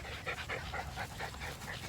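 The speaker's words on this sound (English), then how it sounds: "Look at all these dogs." Dogs on leashes pant in quick, rhythmic breaths, close and fairly quiet over a steady low background rumble, with no talking.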